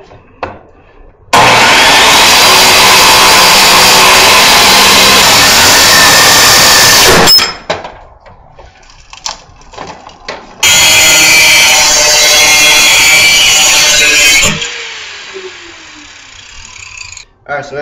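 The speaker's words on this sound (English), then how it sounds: "I cut out pieces, grind them down, and this is going to be the front and the door" Power tools cutting and grinding metal pieces for a foundry build, two long loud bursts of harsh grinding noise separated by quieter handling clatter and a short pause.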